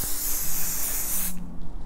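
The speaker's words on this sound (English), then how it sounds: "I'm going to spray this one more time" Basting spray from an aerosol can hisses steadily onto quilt fabric in one continuous close burst lasting over a second, then cuts off abruptly into near silence.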